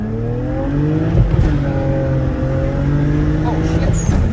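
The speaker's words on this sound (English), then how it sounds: "And we're just gonna roll into first gear." A tuned BMW N54 Stage 2 car running E85 with full bolt-ons accelerates hard in first gear, engine pitch climbing loud and close in a steady rising roar.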